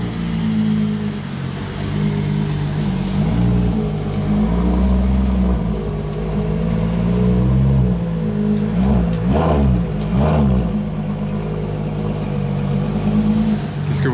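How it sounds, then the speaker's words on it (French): A Ferrari Purosangue engine rumbles close by as the car arrives, with a low steady idle and then a couple of sharp revs past the middle before it settles back. "Ferrari puro sangue."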